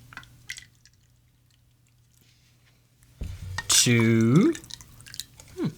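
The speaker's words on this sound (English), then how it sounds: "So now we'll add our hot water, 4 ounces of hot water." Hot water is poured into an Italian toddy after a quiet pause, making a short, close pour that rises in pitch as the cup fills, with a voice speaking briefly around it.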